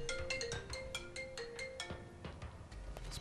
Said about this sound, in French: J'aurais dû éteindre la sonnerie de mon téléphone.